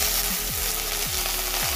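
Fish frying in hot oil in a wok, a loud, continuous close sizzle with repeated scraping strokes as the pieces are stirred, no talking.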